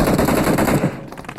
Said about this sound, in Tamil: எங்க இருந்து புல்லட் வருதுன்னே தெரிய மாட்டேங்குது.